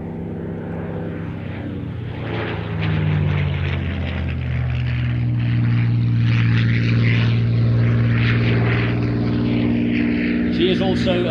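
Supermarine Spitfire in Soviet red-star markings, built at Castle Bromwich, flying at a public air display, its propeller engine droning steadily and swelling louder as it passes, with a commentator talking over it throughout.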